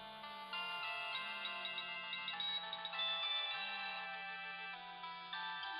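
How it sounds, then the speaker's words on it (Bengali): A phone ringtone plays a bright repeating electronic melody, nearby and steady for several seconds, with no one speaking over it. "ডক্টর রয়ের ফোন"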